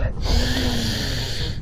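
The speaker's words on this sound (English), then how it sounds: "That was a good sniff," A person takes one long, close, forceful sniff at a bass fish, a single drawn-in breath through the nose lasting over a second.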